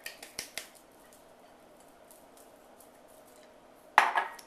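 Confectioner's sugar going into butter in a mixing bowl: a few light clinks of a utensil on the bowl, then quiet, then a short soft rustle and tap near the end.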